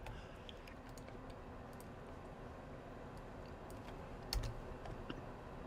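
Computer keyboard typing, a steady run of quiet, rapid key clicks continuing throughout at low level, with one slightly louder knock near the end.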